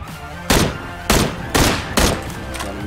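Gunfire in PlayerUnknown's Battlegrounds, four loud evenly spaced shots ringing out over a busy game background, each with a lingering echoing tail.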